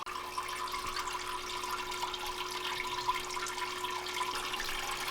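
Water circulating steadily through a Mrdeburr DB300 tumbler, a continuous even splashing wash with a constant tonal hum running underneath, close and moderately loud, no voices.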